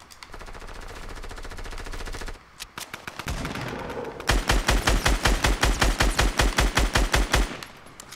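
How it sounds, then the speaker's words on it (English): Rapid automatic gunfire in the Fortnite video game, a few scattered shots followed by a long loud burst of evenly spaced rounds, with no talk over it. "Just trying to shoot people."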